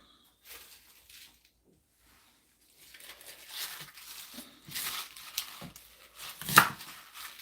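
Kale and other vegetables being chopped with a knife for juicing, a handful of scattered, fairly quiet cutting and crunching sounds after a short silence, with no talk.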